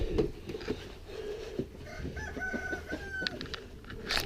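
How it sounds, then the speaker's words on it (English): A hen in a coop squawks and clucks in agitated bursts as her eggs are gathered from beneath her, close and fairly loud, with a few rustles. "And you, Mrs. Chicken, can I get the eggs under you"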